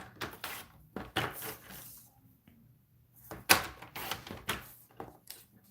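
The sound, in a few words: cutting paper strips for a card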